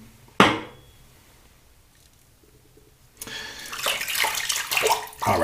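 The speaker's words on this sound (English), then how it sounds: "let me just rinse my hands a little bit" Hands rinse under a running tap at a shaving sink: a sharp knock comes first, then a quiet pause before water pours and splashes loudly, close by and continuing to the end.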